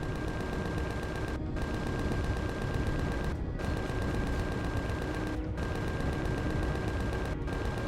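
Turret gunfire in Empyrion Galactic Survival (Reforged Eden), a dense, continuous fusillade that hammers on for the whole stretch with brief gaps about every two seconds, loud and without speech.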